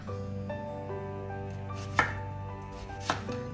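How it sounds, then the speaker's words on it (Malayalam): Two sharp knife strikes chopping green tomatoes into small squares on a cutting board, spaced about a second apart, close and clear over a low steady background hum. "ചെറിയ സ്ക്വയർ പീസായിട്ട് നമുക്ക് അരിഞ്ഞെടുക്കണം."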